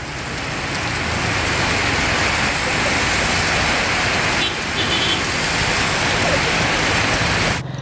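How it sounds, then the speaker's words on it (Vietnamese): A heavy, historic downpour in Ca Mau pours down as a loud, dense, continuous hiss of rain striking surfaces, close and unbroken, with a faint hint of passing traffic and no talk. "Dầm một cái trận mưa hơn 5 tiếng đồng hồ"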